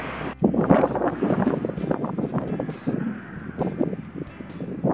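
Gusty wind buffets the microphone in a continuous low rumble, rising and falling in strength for several seconds, with no voices.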